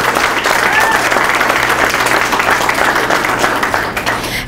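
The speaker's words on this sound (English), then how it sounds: "we should all give Isaac another round of applause for this accomplishment." A crowd bursts into sustained, dense applause, loud and steady throughout, with many hands clapping at once.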